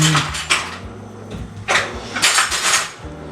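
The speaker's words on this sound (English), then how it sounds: "Now I'm gonna grab a spoon" A spoon pulled from a cluster of kitchen utensils while cooking Hakka noodles, a handful of sharp metallic clatters and clinks close by.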